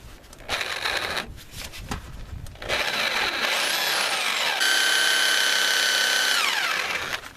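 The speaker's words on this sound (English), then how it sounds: "Now take your drill bit and go at it." Power drill driving a bit into the rear shock mount of a Ford Ranger, close and loud, starting in short bursts and then settling into a steady whine with squealing metal-on-metal screeches.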